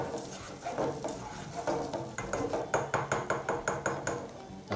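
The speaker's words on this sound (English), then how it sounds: "using a spoon or a flat spoon or a wooden spoon if you prefer, just begin to give your apples a mixture" Spoon stirring apple pieces coated in melted butter in a pan, a steady rhythmic run of wet scraping and clinking strokes with a soft sizzle underneath.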